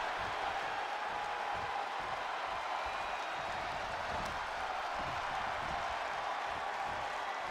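A large arena crowd in the WWE 2K25 wrestling game roars and cheers in a steady, dense wash of noise that holds unbroken throughout, with no voices standing out.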